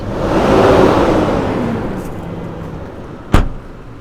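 A petrol V8 in a Toyota Land Cruiser runs with a loud, full rumble that swells and eases, then a sharp thump like a door shutting cuts in near the end.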